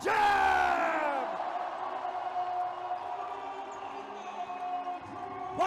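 Basketball arena crowd at a pro game between San Miguel Alab Pilipinas and the Macau Black Bears roars and whoops after a dunk, a loud sustained cheer that slowly fades, with an announcer talking over it.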